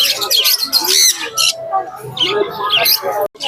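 Cockatiels, including patchless hand-fed babies, squawk and chirp repeatedly at the Naihati pet market, close and fairly loud, with busy market noise mixed in.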